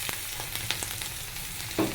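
Dried fish with salt and turmeric frying in a pan, a close, steady sizzle with light taps and scrapes and a brief clank near the end.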